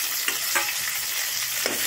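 Chopped farm-grown tomatoes hit a hot pan and sizzle, a brief bright crackle with a couple of sharper spatters as they land and settle into a steady fry.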